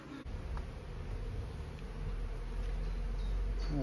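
An angry honey bee swarm buzzes at a full-size hive in a dense, continuous drone up close, with individual bees whining past now and then.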